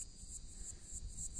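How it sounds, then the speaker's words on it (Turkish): Grasshoppers chirp in an okra field, giving faint, repeated high-pitched buzzing trills in a regular rhythm over quiet outdoor background noise. "Çekirgeler var."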